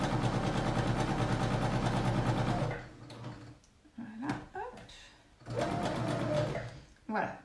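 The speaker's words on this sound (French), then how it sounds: "Je continue, je suis presque à ma couture de côté," Domestic sewing machine running a steady fast whir while stitching the side seam of a wrap skirt, close and loud, stopping partway; someone talks in the pause before the motor starts again briefly.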